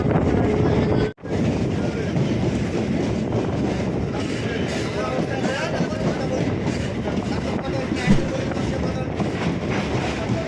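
A Sealdah to Hasnabad local train rumbles steadily near Basirhat station, with wind noise buffeting the microphone, a continuous loud roar from inside or beside the carriage.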